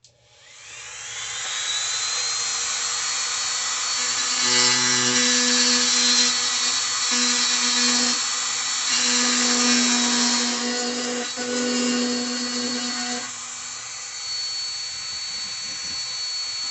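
A power tool grinds a guide trench into a Star Trek Galaxy-class starship model, a steady high whine held for about twelve seconds with slight dips in pitch, close and loud, no talking.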